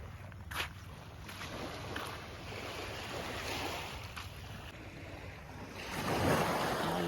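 Ocean waves and surf wash steadily onto a shore during a morning walk, with wind buffeting the microphone and the surf swelling louder near the end; the sound is faint and distant, with no talk.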